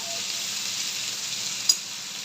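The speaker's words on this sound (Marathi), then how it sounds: "आता ह्याच्यामध्ये मी दोन बारीक चिरलेले टोमॅटो ॲड करते हे पण फक्त दोन मिनटं तेलात परतून घ्यायचं आपल्याला" Finely chopped tomatoes sautéing in oil give a steady, even sizzle with one brief sharp pop near the end; no voices.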